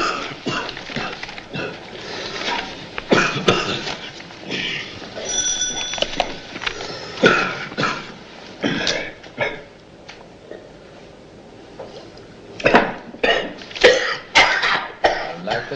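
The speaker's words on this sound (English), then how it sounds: "He's been coughing like that all day" A man coughs and clears his throat repeatedly in bursts, with quieter pauses between fits and a faint ringing tone in the background.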